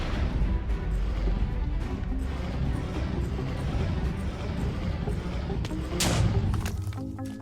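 The slider boss in the Minecraft Aether 2 mod smashes through blocks with heavy game thuds and crashes over a dense, continuous rumble of game noise.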